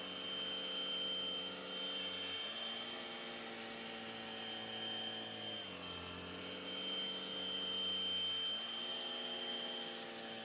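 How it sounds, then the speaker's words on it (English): A fur vacuum cleaner runs steadily over household floors during a deep clean, a continuous motor whine with its pitch shifting down and up a few times as the nozzle moves, and no voices. "I am gonna just go over it again with the fur vacuum."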